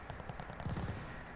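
Rapid automatic gunfire from a gun in the video game Call of Duty: Vanguard, firing about eight rounds per second in a quick, even burst, moderately loud.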